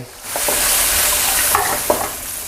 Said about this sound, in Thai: เจียวกระเทียมให้เหลืองครับ พอกระเทียมเหลืองแล้วก็มีกลิ่นหอมให้เราใส่กุ้ง